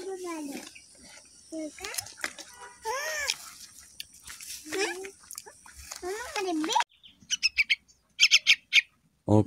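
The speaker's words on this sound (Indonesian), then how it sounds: "sekarang kita kasih makan dulu ini anak burungnya" Baby birds chirp and squawk in short bursts while being hand-fed in a garden, the cheeping close and sharp, mixed with someone speaking.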